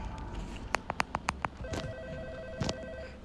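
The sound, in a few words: telephone ringing in video game Hotel Experience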